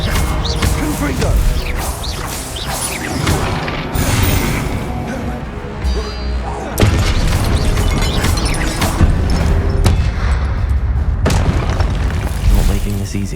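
Booming magical blasts from the Confringo spell ring out in Hogwarts Legacy combat, heavy repeated impacts and crashes layered over a continuous game soundscape, with a voice speaking over parts of it.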